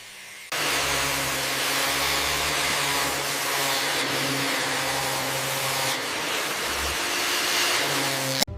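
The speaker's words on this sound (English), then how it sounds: "You have to be incredibly precise with the grinder, especially on the curves" A power grinder runs steadily and loudly against the surface of an old sacred crucified Christ statue under restoration, a continuous broadband whir that starts abruptly and holds with slight changes in load, with no talk.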